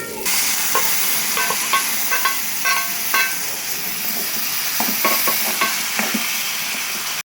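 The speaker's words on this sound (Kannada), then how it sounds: "ಈಗ ಸ್ವಲ್ಪ ಮಸಾಲೆ ಫ್ರೈ ಆಗಿದೆ" Masala fries in a pan for a brinjal ennegayi curry, giving a constant, fairly loud hissing sizzle up close, with scattered light scraping and stirring clicks and no talking.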